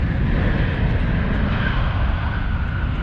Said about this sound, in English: The plane just landed right there.